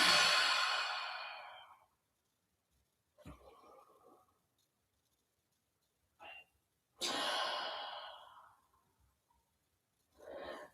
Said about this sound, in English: but exhale through the mouth